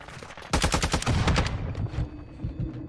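Rapid bursts of automatic gunfire from a video game weapon rattle loudly for about a second, then trail into a few scattered, quieter shots.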